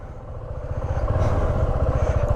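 A motorcycle engine drones steadily while riding, its low rumble building slightly louder over the stretch with no voices.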